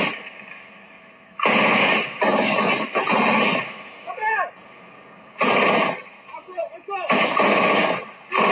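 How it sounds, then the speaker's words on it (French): Gunfire aimed toward soldiers near a light armored vehicle in a supposedly secured military zone: three loud, broad bursts of crackling noise, each lasting about a second or more, separated by quieter gaps. "Mais soudain, un coup de feu est tiré dans leur direction."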